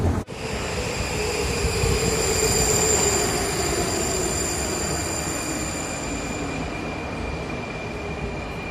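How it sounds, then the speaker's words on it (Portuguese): Prague metro train riding underground, a steady loud rumble of wheels on rails with a sustained high metallic whine from the car, continuous and close throughout with no talk. "Vou pegar o metrô só para mostrar"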